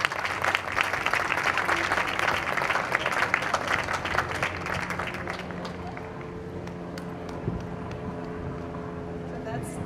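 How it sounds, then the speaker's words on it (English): Audience applause at the Victoria ICCA Mela festival rings out dense and moderately distant for about five seconds, then dies away into quieter crowd murmur and a low steady hum. "please give a round of applause for our new board and this festival here today"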